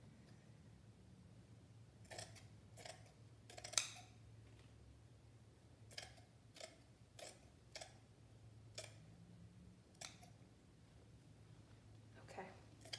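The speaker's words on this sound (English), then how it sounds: "I'm cutting the whole thing as a giant spiral" Scissors snip through a cotton t-shirt, cutting it into one long spiral strip: roughly a dozen crisp, close cuts at uneven intervals over a low steady hum.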